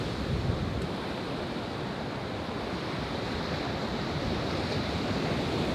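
Sea surf washing onto the shore in a steady, loud roar, with some wind rumble on the microphone and no voices.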